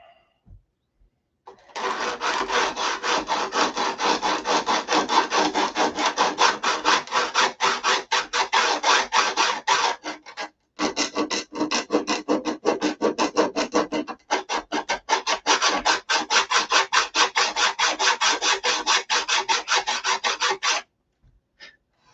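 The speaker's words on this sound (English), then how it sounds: "paint stick with a piece of sandpaper on it." Sandpaper wrapped on a wooden paint stick rasps back and forth in rapid, steady strokes for nearly twenty seconds, loud and close, with two brief pauses partway through.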